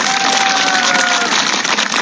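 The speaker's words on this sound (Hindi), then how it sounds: "तो अपने आप अपनी कामयाबी के लिए एक बार जोरदार तालियां" Loud, dense applause from a crowd at a street protest rally by traders, sustained clapping filling the whole stretch with no pauses.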